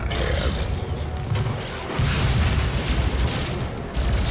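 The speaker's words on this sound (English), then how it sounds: "Stun bomb." A stun bomb detonating in the video game DOOM, booming low blasts amid dense combat noise, with a fresh loud burst partway through and continuous rumble, no voices.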